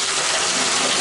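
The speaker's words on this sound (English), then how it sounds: "I turned on cold water." Cold water gushing from a tap into a bathtub, a loud, steady hiss of running water heard up close with no talk.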